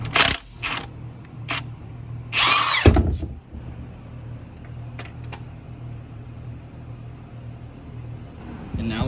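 Short bursts from a power tool come as several loud whirring spurts while cross member bolts are taken off beneath the oil pan of a CAT 3406B engine, over a low steady hum with faint clinks between.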